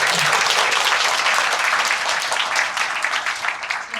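Dense, steady audience applause from a crowd of young people at a political gathering in Daegu, many hands clapping together at full strength and easing off slightly toward the end.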